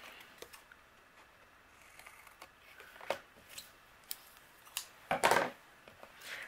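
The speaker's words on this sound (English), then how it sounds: "I'll use my scissors and we'll trim away." Scattered snips and crisp clicks of scissors cutting paper, close and quiet, with one louder rustling cut near the end.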